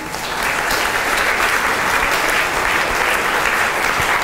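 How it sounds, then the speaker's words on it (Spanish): An audience at a report meeting in Cuba applauds, giving a steady, dense wash of clapping throughout. "¿Puede darle un aplauso a Cienfuegos?"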